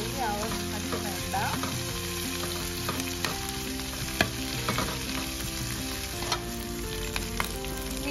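Drumstick leaves fry and wilt in a hot pan with a steady close crackling sizzle, broken now and then by a stirring scrape or clink.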